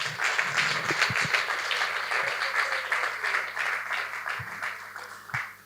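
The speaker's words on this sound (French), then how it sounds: "Je veux qu'on applaudisse Gloria Umba." An audience at an eloquence contest final applauds steadily, a dense wash of many hands clapping at moderate volume that tapers slightly toward the end, with no speech over it.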